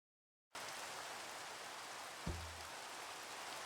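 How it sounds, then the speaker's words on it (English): Rain falls in the Minecraft video game, a steady soft hiss that starts abruptly and carries on evenly, with one brief low thump partway through and no talk. "Holy heck, it's raining."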